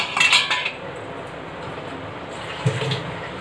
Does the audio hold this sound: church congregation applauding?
no